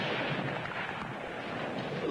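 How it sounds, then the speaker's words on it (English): Rifle fire in an outdoor standoff, a dense continuous rumble of distant gunfire and booming reports with no clear individual shots, no talking. "Not with that rifle shooting at us."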